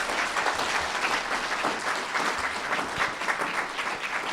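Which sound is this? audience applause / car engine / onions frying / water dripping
audience applause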